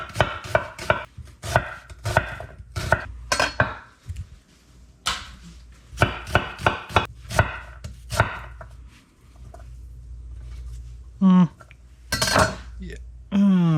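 A knife chops onion and scallions on a cutting board in a home kitchen, with sharp rhythmic bursts of cuts separated by pauses, some clinks of dishes and a brief vocal sound near the end.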